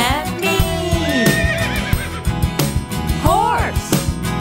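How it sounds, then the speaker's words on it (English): A cartoon horse neighs twice in a cheerful children's song about looking out a bus window, bright whinnies riding over bouncy music with a steady beat and clip-clop-like percussion. "I see a horse looking at me."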